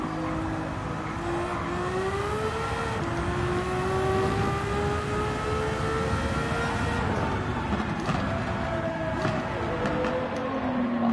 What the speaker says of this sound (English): I can hear a noisy V12 coming from a Formula car somewhere.